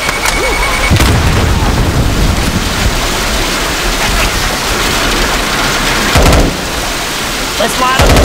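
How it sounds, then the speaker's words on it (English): A pipe bomb blows up in Left 4 Dead 2 during a heavy rainstorm level, with loud booming blasts near the start and again later over a constant roar of rain, with voices talking in the mix. "Throwing a pipe bomb."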